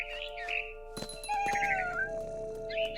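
A cat meows repeatedly in the narrative game What Remains of Edith Finch, several clear, close, drawn-out mews over a quiet background with a few soft thumps.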